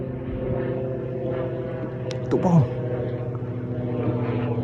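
A steady drone of an airplane flying overhead runs throughout, heard from an open spot during prawn netting, with a brief voice cutting in partway.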